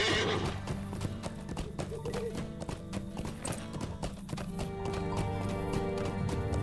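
Horse hooves clop steadily in the Lord of the Rings Online video game, with a whinny partway through, all set over a continuous game music bed.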